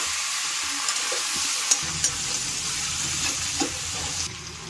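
Young jackfruit curry masala being sautéed in a pan: a continuous close-up sizzle with a few sharp spatula taps and scraping stirs, easing slightly in the final moment.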